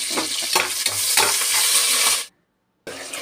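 Onions frying in a pan with cinnamon, cloves, cardamom and bay leaf give a loud, steady sizzle with stirring scrapes, cut off by a short silence before the crackle returns.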